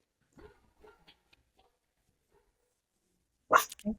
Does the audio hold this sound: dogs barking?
yes